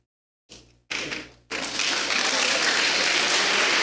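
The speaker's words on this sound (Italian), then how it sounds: "Ma cosa applaudite?" Audience applause at an Italian talk on information security, starting after a few thumps and swelling into sustained, dense clapping that fills the room.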